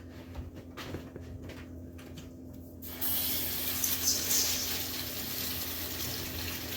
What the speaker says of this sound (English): So as I've got my water running over those to get those nice and clean